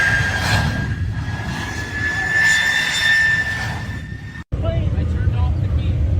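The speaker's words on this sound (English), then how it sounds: "So a little jet engine." A small jet engine roars steadily and loudly with a high whining tone, then cuts off abruptly for an instant before resuming a rougher, continuous rumble.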